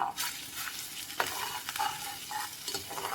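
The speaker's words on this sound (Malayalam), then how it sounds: "ഇതൊന്ന് ഇളക്കി കൊടുക്കാം" A spoon stirs sesame seeds and fenugreek in a pot of boiling water, giving a few soft scraping strokes and light clinks over a low bubbling wash, heard close and fairly quiet.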